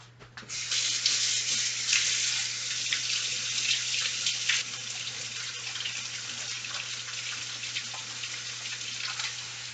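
A kitchen tap runs steadily as an orange is rinsed under it, a close, continuous hiss of splashing water over a low background hum, with no talking.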